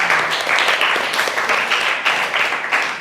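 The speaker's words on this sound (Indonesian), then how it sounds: "beri tepuk tangan." A group of children in a school talk on recognizing emotions claps together in uneven, pulsing bursts, close and fairly loud, with no talking over it.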